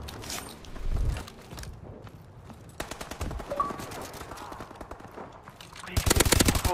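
Gunfire crackles in a Call of Duty: Advanced Warfare match, with several bursts of rapid automatic shots amid battle commotion, building to a dense, loud volley at the end.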